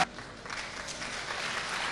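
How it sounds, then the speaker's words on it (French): Audience applause at a youth award ceremony as a guest is welcomed to the stage: a steady, dense patter of many hands clapping, filling the room evenly for the whole stretch without a break. "qu'il faut accueillir avec des applaudissements."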